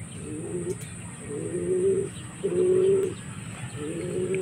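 Racing pigeons coo in a former rice field, giving four repeated low, throaty coos at a steady rhythm, close and clear over a faint constant high hiss of background noise.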